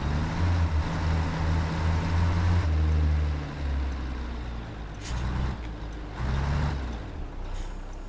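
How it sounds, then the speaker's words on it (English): A heavy truck engine in American Truck Simulator drones low and steady, shifting tone partway through, with a couple of brief swelling pulses later; close and continuous with no talking. "Listen to that engine, it's fucking gorgeous"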